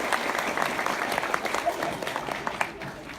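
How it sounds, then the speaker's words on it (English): Convention audience applauding for a guest at an anime fan panel, a steady wash of clapping from a crowd with speech mixed in over it. "Give her a round of applause."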